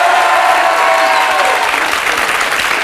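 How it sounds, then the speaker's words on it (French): A TV studio audience on a French talk show applauds loudly and thickly. The crowd noise is dense and continuous, with a faint murmur of voices and a brief tonal whistle-like note mixed into the clapping. "je voudrais qu'on l'applaudisse très très fort"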